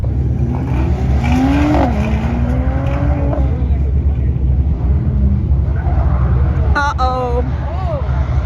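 Mercedes C43 AMG engine droning loudly through an autocross run, heard from inside the car with steady road and engine noise, while a driver talks over it almost throughout.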